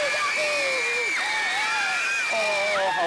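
Children and guests in a radio studio cheer with rising and falling whoops and shouts, a lively continuous burst of voices with light clapping underneath.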